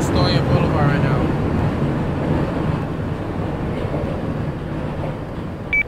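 A New York subway Q train runs at Astoria Boulevard with a loud, steady rumble and rushing roar, with a short voice heard over it.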